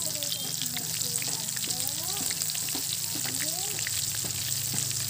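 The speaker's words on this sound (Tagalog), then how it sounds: "Iprito na natin to." Oil sizzles and crackles steadily as bananas deep-fry, with occasional faint stirring sounds. It is close and constant, and no one speaks.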